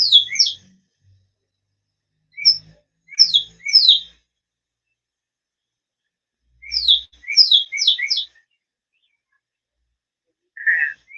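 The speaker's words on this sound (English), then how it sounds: "This little bird showed up, and I mean super close to me." Bright, high chirps from a small bird come in short clustered bursts separated by quiet gaps, close and clear against a silent background.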